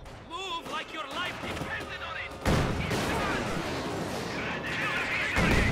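An anti-tank gun fires in the video game Company of Heroes 2: two sharp, loud blasts, about three seconds apart, each followed by a rumbling tail, amid battle noise with players talking over it.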